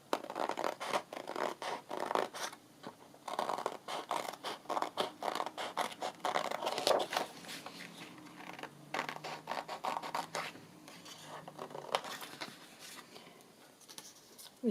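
Small crafting scissors snip paper for fussy cutting: close, quiet, rapid crisp cuts and paper rustling repeat in irregular bursts, with no talk.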